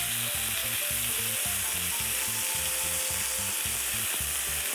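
Chicken breast sears in a hot pan with a steady, loud, continuous sizzle and crackle that stays even from start to finish. A faint rhythmic low thumping pattern runs underneath.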